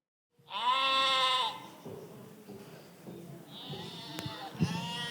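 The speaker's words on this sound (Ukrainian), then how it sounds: "Що це за мекання овець і волів доносяться до моїх вух?" Sheep bleat loudly and up close in a Christmas nativity play, with one long wavering bleat, a pause, then a second bleat near the end over a low murmur of background sound.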